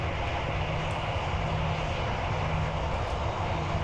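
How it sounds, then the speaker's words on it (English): Aircraft engines in a flight simulator game give a loud, continuous roar and whine that holds at a steady level, dense and close, with no speech over it. "Yeah, the engines actually sound really good."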